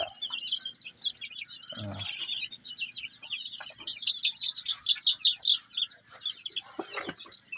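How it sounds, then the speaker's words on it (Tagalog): Native chickens cluck and call in the background amid a dense chorus of small birds chirping, with a brief low thump near the start. "Ito yung native chicken din natin guys."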